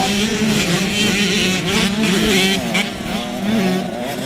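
Several MX125 motocross bikes race past at a Thai motocross championship round, their high-revving two-stroke engines snarling and wavering continuously and loudly, with no one talking.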